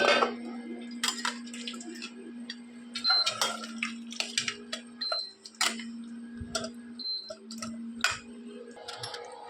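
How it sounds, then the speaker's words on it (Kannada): Boiled chicken for chicken sukka being ladled out of its cooking pot into another vessel: close metal clinks, scrapes and small drips come in irregular bursts over a steady kitchen hum. "ಇವಾಗ ಇದನ್ನ ತೆಗೆದು ನಾನು ಬೇರೆ ಪಾತ್ರೆಯಲ್ಲಿ ಹಾಕೋತೀನಿ."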